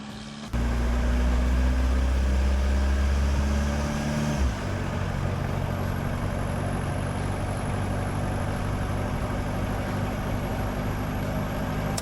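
A TDI diesel-swapped Willys Wagon drives with a loud, close engine drone; the low engine note steps down sharply around four seconds as the transmission shifts, then settles into steady running with a high whine above it.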